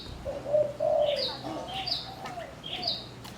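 Caged pet doves, turtle dove or zebra dove, coo softly and repeatedly in the late afternoon, with low rounded notes interleaved with brief higher chirps, close by and alone without talk.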